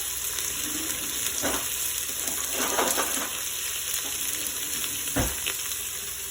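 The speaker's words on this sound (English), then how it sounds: "We're just going to stir it around with our spoon." A bamboo spoon stirs salted ingredients in a quick cooker for BBQ chicken salad, with steady sizzling frying throughout and a few sharper scrapes and knocks standing out close by.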